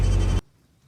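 A single loud, close sheep bleat inside a farm shed at lambing time, lasting under half a second and cutting off abruptly into near silence.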